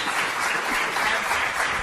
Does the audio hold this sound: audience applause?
yes